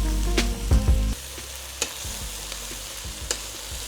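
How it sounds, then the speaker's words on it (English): Chopped okra frying with sautéed onions in oil in a pan over high heat, a steady close sizzle with clinks and stirring scrapes, louder bursts early on, then a lower continuous crackle. "The bhindis have been frying for a few more minutes"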